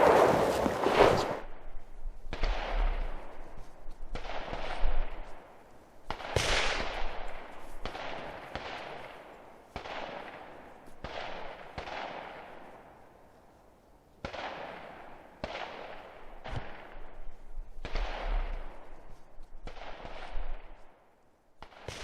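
A series of about fifteen sharp shots from a CZ pistol, fired one at a time at irregular intervals, each with a short echoing tail.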